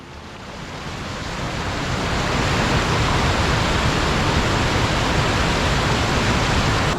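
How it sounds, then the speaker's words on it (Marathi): A small waterfall in a dense monsoon forest at Andharban, a loud continuous roar of broadband rushing water that swells over the first seconds and then holds steady and close, with no voices. "इथे आपल्याला धबधबा लागलेला आहे हा छोटा"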